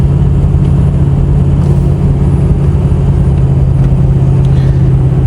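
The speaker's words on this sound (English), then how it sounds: "So now torque converter is locked in 5th gear. Just downshifting." A vehicle engine downshifting out of 5th gear with the torque converter locked on hilly roads makes a loud, steady low drone heard from inside the cab, with no talk over it.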